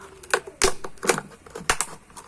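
A cutter knife pierces a plastic bottle while a trumpet is made from it, giving a series of sharp crackling snaps and pokes at irregular intervals, close and fairly loud, with no talking.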